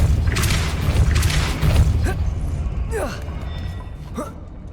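A Depulso spell cast in Hogwarts Legacy sounds as a heavy boom and rumbling impact, followed by creaking, whooshing swept tones and a spoken voice partway through.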